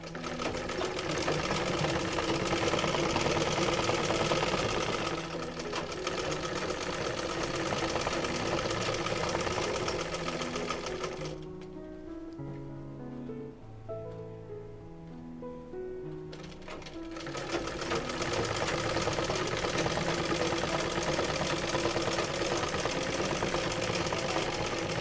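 An electric sewing machine stitching ladies' pants runs in a steady, close whir, pauses briefly in the middle while lighter mechanical sounds tick, then resumes its continuous stitching hum.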